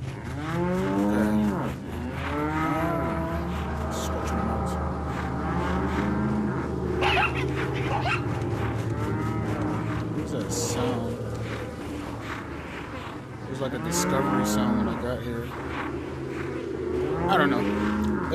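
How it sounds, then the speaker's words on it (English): Cow mooing in the VR game Resident Evil 4, several drawn-out lowing calls in bursts at the start, middle and end, mixed with game ambience and a voice talking over it. "that was a cow."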